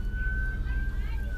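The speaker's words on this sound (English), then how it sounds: "Ambulance." An ambulance siren wails faintly in the distance as a steady rising and falling tone, heard beneath people talking nearby.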